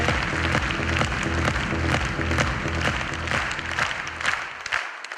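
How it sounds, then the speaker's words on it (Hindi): A crowd at a business opportunity meeting claps loudly and continuously, a dense wash of applause that holds steady for several seconds before cutting off. "एक बार जोरदार तालियां बजा दीजिए मोदी के जबरदस्त प्रोडक्ट के लिए"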